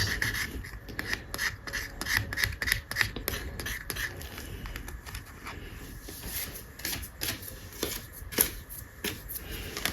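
A budget challenge scratch card being scratched off, giving close, dry rasping strokes in quick irregular bursts that repeat steadily for the whole stretch, with no talking.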